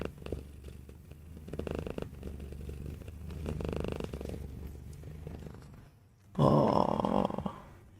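Dolly the cat purrs loudly and close by in a continuous, rumbling rhythm, ending in a brief, louder, noisier burst.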